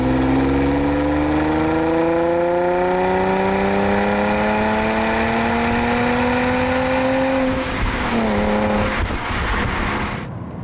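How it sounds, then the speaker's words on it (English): A stock, unmodified Nissan 350Z engine revs steadily upward in one long, smooth climb, then drops off sharply and settles, loud and close with no talking. "what the car sounds like stock"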